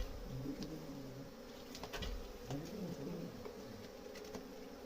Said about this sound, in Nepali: भाइलाई मौरी एकदमै रिसाइरहेको छ है